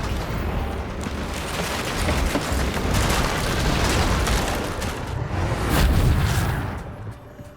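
Confringo explosive spell in the video game Hogwarts Legacy, a sustained rumbling blast with rolling booms and crackle that swells and fades over several seconds, loud and without talk.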